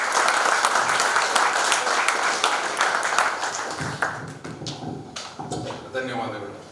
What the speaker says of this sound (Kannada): ಮೊದಲಿಗೆ ಅವರಿಗೆ ಗೌರವದ ಚಪ್ಪಾಳೆ ಕೊಡಿ.